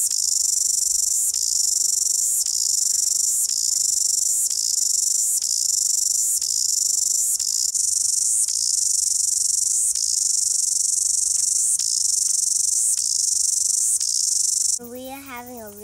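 Dense chorus of male cicadas in a hot New Zealand summer, a loud continuous high-pitched buzz pulsing in regular waves about once a second, with a brief rising whistle near the end.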